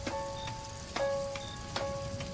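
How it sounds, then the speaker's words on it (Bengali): Heavy night rain falls steadily on a surface, a continuous hiss with a few louder drip-like bursts, moderately loud and with no talking. "রিকশা ছাড়া কিছু সময় পরই বেশ জোরে বৃষ্টি শুরু হয়।"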